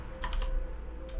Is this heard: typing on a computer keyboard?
yes